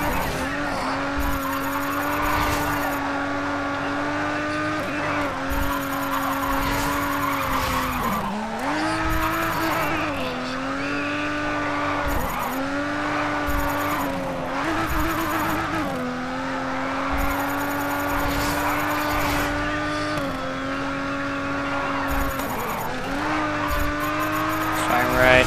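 A race car in the video game Grid skids after a handbrake turn, the engine whine wavering while the tires squeal for a long stretch, loud and close, with a voice talking at points.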